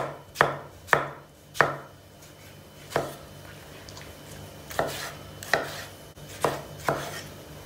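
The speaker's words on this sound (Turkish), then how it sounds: "Bir tane de domates doğruyoruz." Knife chopping a tomato on a cutting board, about a dozen sharp thuds at an uneven pace, close by with no talking.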